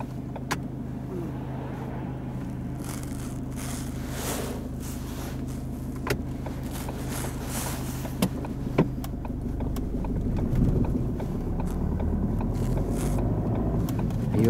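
Car pulling away during a driving lesson with an instructor, heard from inside: a steady low engine hum with a few clicks and knocks, rising into louder road noise as it moves off.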